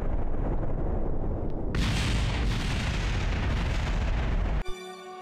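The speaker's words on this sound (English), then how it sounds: "we're going to clean this up by plummeting it into the surface of a Duna with a nice," Spacecraft debris slams into the surface of Duna in the Kerbal Space Program game, producing a sustained, roaring explosion that swells midway. It then cuts off abruptly into a brief tonal game sound.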